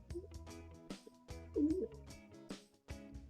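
Carrier pigeons in a new cage coo softly and repeatedly in short, rounded calls at moderate distance, against a quiet background with no talking.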